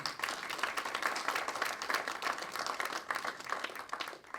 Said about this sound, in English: So I'd like to give them all a round of applause if we could right now.